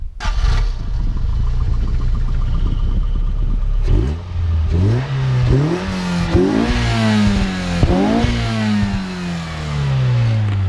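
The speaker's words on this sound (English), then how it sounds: "this HKS exhaust. Okay. Do you mind if we hear it real quick?" A 1988 mid-engine Toyota MR2 with an HKS exhaust idles with a deep burble, then a series of sharp revs rise and fall repeatedly, loud and close, with no talking.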